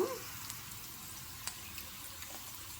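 A soft, steady sizzle of green chillies frying in hot tempering oil, fairly quiet, with a few faint clicks now and then.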